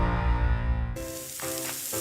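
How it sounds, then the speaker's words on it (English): Gain scent booster beads pour into laundry, a bright granular hiss and patter that starts abruptly after a brief tonal sound, close and fairly quiet, with small bursts of rattle. "That's the sound of James adding long-lasting Gain scent boosters to his laundry this morning"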